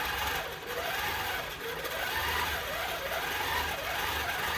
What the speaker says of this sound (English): I'm just gonna do some test stitching up here